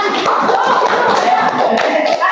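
Classroom applause after a student presentation: a short burst of many hands clapping together, dense and steady throughout, with no pauses.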